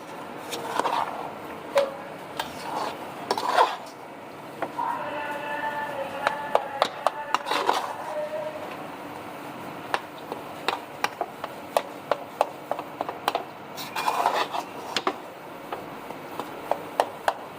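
A spoon scraping and tapping in a pan as chana dal halwa with almonds and coconut is stirred, soft irregular clicks and knocks that come faster toward the end, with someone speaking quietly at times.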